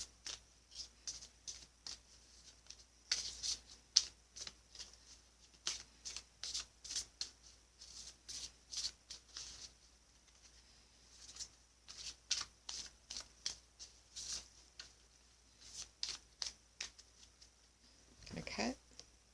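Oracle cards from a Healing and Meditation deck being shuffled by hand, a long run of soft, rapid riffling and patting bursts at a quiet, close level, with no talking.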